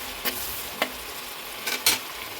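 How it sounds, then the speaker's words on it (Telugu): Green chillies and tomatoes cook in a pan for gongura boti curry, giving a continuous soft sizzle broken by four short scraping stirs. "ఈ లోపుగా ఇందులో పచ్చిమిరపకాయలు, కొంచెం టమాటాలు వేసి మళ్ళీ కొంచెం మగ్గిద్దామండి."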